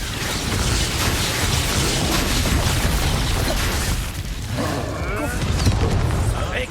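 A fire spell cast in the Hogwarts Legacy video game, a dense roaring burst of flame that carries steadily through the clip, with a brief dip before swelling again near the end.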